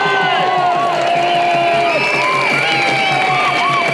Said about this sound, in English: A big massive round of applause for David Icke!